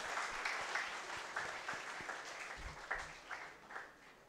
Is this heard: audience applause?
yes